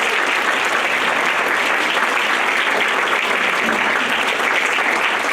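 Loud, continuous applause from an audience at a senior community theater performance, a thick, even roar of clapping for the cast that fills the whole stretch without letup.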